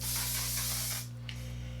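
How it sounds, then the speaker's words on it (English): Short burst of Patrick Starrr One Size On Till Dawn mattifying setting spray, a close airy hiss lasting about a second before cutting off, with a faint click afterward. "Go ahead and set with my Patrick Starrr One Size On Till Dawn mattifying setting"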